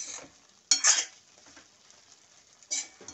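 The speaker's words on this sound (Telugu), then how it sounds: "ఇప్పుడు నిదానంగా పోయి సిమ్లోనే ఉంచి నెమ్మదిగా కలుపుకోవాలి." Okra stuffing mixture stirred in a pan over low heat: soft scraping bursts of spoon against pan, one near 0.7 s and another near 2.7 s, over a faint background of quiet sizzling, no voices.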